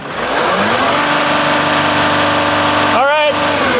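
Mercedes Sprinter diesel van with low power and DPF problems, its engine held at a steady loud rev, briefly climbing higher then dropping back, close by with voices faintly under it.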